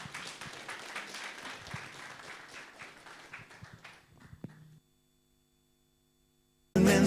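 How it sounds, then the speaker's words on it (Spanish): Church congregation at a Sunday service clapping together in dense, steady applause that thins out and stops near the five-second mark, then silence until a loud burst of sound at the very end. "vamos a recibir con fuertes aplausos"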